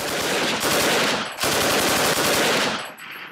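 Loud, continuous bursts of automatic gunfire from a WW2 German FG 42 paratrooper rifle rattle close by in two long strings with a brief break between them.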